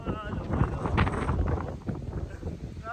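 Strong wind buffets the microphone in loud, gusty rumbles, with a voice briefly audible underneath.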